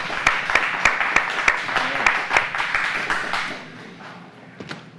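A live audience applauds a guest musician on a TV music show, a burst of scattered claps with a few sharp standout hits, thinning out toward the end.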